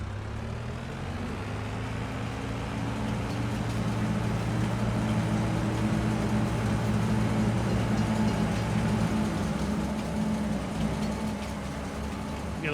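A custom train rolls past on a railway in Farming Simulator 22, its steady low engine and wheel rumble loud and close, continuous throughout with no talk over it.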